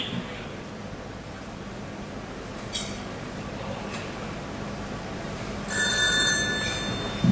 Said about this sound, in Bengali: মেজর সানাউলকে ফোন দিয়ে দেখি।